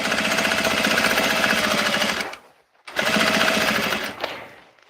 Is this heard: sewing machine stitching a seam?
yes